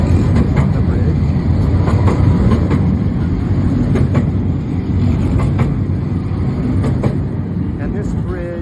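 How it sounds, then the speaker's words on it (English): A tram rumbles across the Ponte Dom Luís bridge over the Douro River in Porto, a steady low rolling drone with faint rhythmic clicks of the rails, heard from a distance while someone talks. "Oh, that's a tram going by on the bridge."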